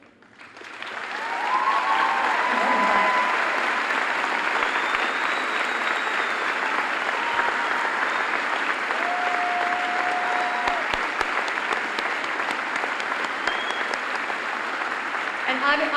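A high school graduation crowd breaks into applause for graduates heading into the military, the clapping rising quickly to a loud, sustained roar with scattered cheers and voices mixed in across a large hall.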